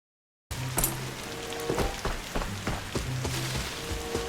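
Rain in the video game Arena Breakout falls as a steady hiss after a brief silence, with scattered soft drips and clicks of game sound mixed in, no talk.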